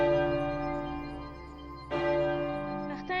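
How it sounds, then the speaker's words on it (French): A castle's church bell rung as an alarm warning of an attack: a sustained, ringing metallic tone with two fresh strikes near the end, each renewing the bright shimmer over the fading hum, with no voices. "Il court pour aller sonner la cloche, qui avertira tout le monde de l'attaque du château."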